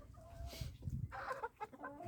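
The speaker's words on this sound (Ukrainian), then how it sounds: "І вон півник" A rooster clucking in short, throaty bursts with a few higher calls, close by, over low farmyard rumble.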